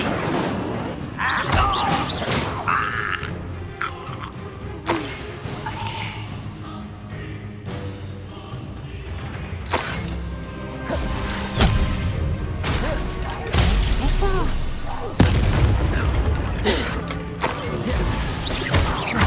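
Incendio fire spells cast repeatedly during a serious combat fight in Hogwarts Legacy, heard as bursts, smashes and thuds amid busy battle sounds and music.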